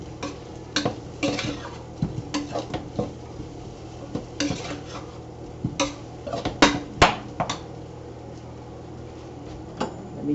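Diced potato is sautéed in a pot for Guyanese chicken curry, mostly heard as repeated clacks and scrapes of a spoon against the pot, irregular and close, over a faint low sizzle.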